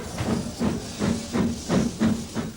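A steam locomotive, a Puffing Billy on Indian railways, hisses and chuffs in a steady rhythm of about seven strong exhaust beats, close and loud, with no voices.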